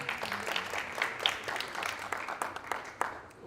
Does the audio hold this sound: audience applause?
yes